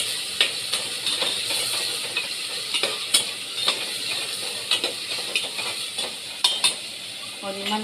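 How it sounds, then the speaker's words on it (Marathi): Chopped onions sautéing in hot oil for khichdi in a home kitchen, a steady bright sizzle with scattered crackles and occasional stirring scrapes, close and continuous. "मस्त तेलात परतून घेते."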